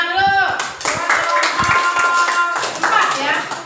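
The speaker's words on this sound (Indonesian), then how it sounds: "Oke, tepuk tangan dulu" Schoolchildren clap their hands in a classroom at an elementary school in Bekasi, a short, loose burst of claps mixed with children's voices and a teacher talking over it.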